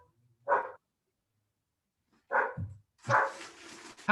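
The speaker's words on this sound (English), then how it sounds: "I can hear a dog barking?" A dog barks in three short separate bursts, the last one louder and fuller, heard indoors at a moderate distance with no talk over it.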